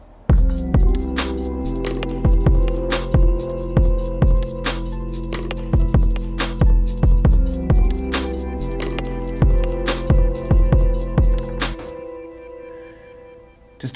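Several synth tracks play together: Digitone melodies, an arpeggiator, a main pad, fill parts and a bass line, sequenced with an MPC. The mix is steady and punchy with a rhythmic pulse, then stops abruptly near the end.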